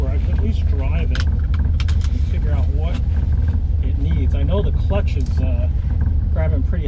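A silver Ferrari 400GT on its first drive, the clutch grabbing high, its engine and road noise a constant low rumble heard from inside the cabin while someone talks over it.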